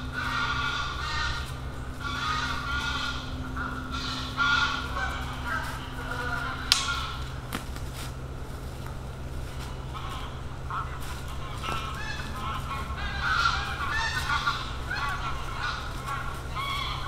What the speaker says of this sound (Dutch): Toevallig weer vogels die naar het zuiden trekken. Die komen net een troepje van over.